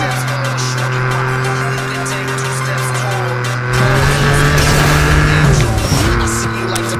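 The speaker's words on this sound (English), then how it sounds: "Okay, so I'm drifting, but I can drift." A car drifts in Need for Speed Nitro, its engine droning loud and close while tires squeal in rising, sliding tones through the middle, ending with a shift in engine pitch as the slide straightens out.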